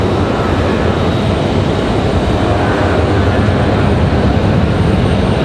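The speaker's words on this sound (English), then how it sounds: "Gonna leave a little heavy, looks like, this 737 800" A heavily loaded Boeing 737-800 taking off at Raleigh-Durham airport, its engines a loud, dense, unbroken roar for several seconds, close and continuous with no voices on top.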